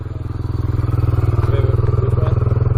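Honda TRX 300EX ATV engine revving up close and loud, a steady pulsing motor note with rhythmic firing and some clatter, rising slightly as it holds the throttle, no voices over it.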